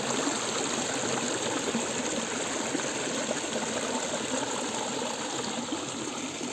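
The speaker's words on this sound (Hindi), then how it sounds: "कम पानी हो गया, वहाँ से बह रहा है" A stream runs over rocks and through carved stone channels in a valley, making a continuous, dense rushing and trickling wash. It is close and steady throughout, with no voices.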